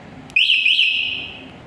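An electric motorbike's keyless remote alarm gives one short, shrill, warbling beep as the bike switches off, loud and close, sounding on its own and fading over about a second.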